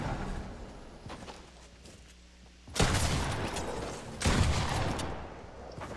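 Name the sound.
shotgun firing in a battle royale video game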